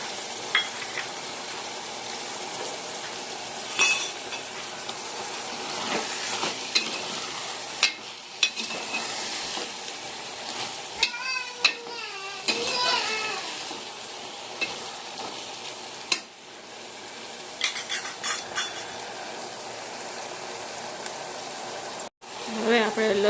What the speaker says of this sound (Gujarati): હવે આપણે તેમાં ટમેટા ઉમેરી દઈશું.